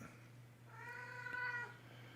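A cat gives one drawn-out, tonal meow in a quiet indoor room, fairly close, with a steady low hum running underneath.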